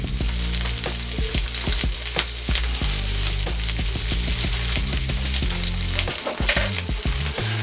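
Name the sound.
meatloaf sandwich with bread toasting, sizzling in a pan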